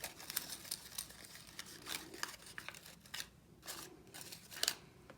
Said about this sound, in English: I sort of fold them up a little bit and squish them together.